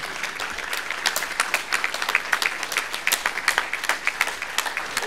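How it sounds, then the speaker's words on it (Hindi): A crowd applauds steadily, a dense patter of many hands clapping at once, moderately loud and sustained. "ये तालियों की गूंज पूरी देश और दुनिया में सुनाई दे।"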